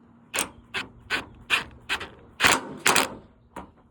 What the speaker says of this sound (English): I'm going to just torque this in.